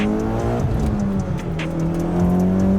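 A Mitsubishi Evo X with a Varis wide body kit, tuned for E85 and making about 430 wheel horsepower, revving and pulling hard, its engine note climbing steadily, loud and close with no talk.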